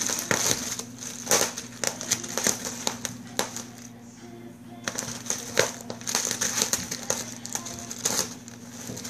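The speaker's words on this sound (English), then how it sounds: "You tearing up my paper towels." Paper towels are torn and crumpled in a rapid run of close, sharp crinkling and ripping bursts, with a brief lull midway before the tearing resumes.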